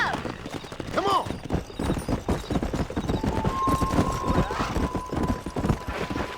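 Horse hooves gallop in Red Dead Redemption gameplay, a fast rhythmic clip-clop close up throughout, with a brief neigh near the start and characters talking over the pounding hooves.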